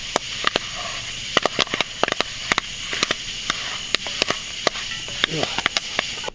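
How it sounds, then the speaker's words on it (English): Popcorn bursts inside a lidded pot over a campfire, a close series of sharp, irregular pops and cracks that come more quickly as the kernels heat, with faint background noise. "Make sure you keep the lid on when the popcorn first starts popping"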